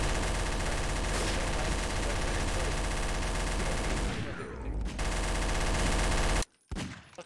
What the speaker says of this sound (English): Stop shooting, guys.